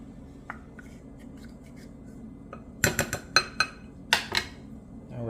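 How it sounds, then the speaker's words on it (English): A spoon clinks and scrapes against a bowl while chili sauce, brown sugar and ketchup are stirred together for a turkey meatloaf sauce, giving a short run of sharp, close taps after a quiet start. "We're gonna mix them together. Mix it until it is well combined."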